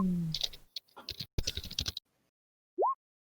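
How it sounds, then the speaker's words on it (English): Rapid, frantic typing on a computer keyboard, a close burst of quick clattering key clicks for about two seconds, then silence broken by a single short rising electronic tone. "frantic typing."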